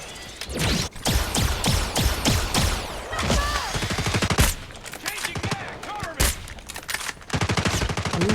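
A J358 gun fires in Call of Duty Mobile, sounding as rapid bursts of close, sharp gunshots broken by short pauses, with other in-game effects and swooshing sounds mixed in.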